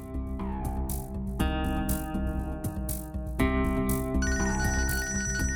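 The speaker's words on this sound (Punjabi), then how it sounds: "ਤਾਂ ਕੌਣ ਬਾਰ-ਬਾਰ ਫੋਨ ਮੈਸੇਜ ਕਰਦਾ ਰਹਿੰਦਾ ਯਾਰ ਮੈਨੂੰ।" A mobile phone plays a melodic ringtone loop of electronic tones that keep changing pitch, steady and up front with no voices.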